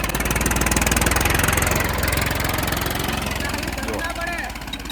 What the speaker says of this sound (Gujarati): આ 39 HP નું ટ્રેક્ટર છે